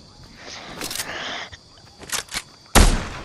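Gunfire in a video game: a few brief bursts and then one sharp, loud shot near the end, with excited voices and quieter game sounds in between.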